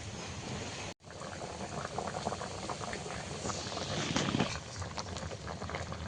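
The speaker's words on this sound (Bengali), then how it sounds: "মাছটাকে দিয়ে কিছুক্ষণ আমি ফোটাবো" A pot of fish curry with green banana and potato bubbles at a steady boil, a continuous close bubbling and hissing with a brief break near the start.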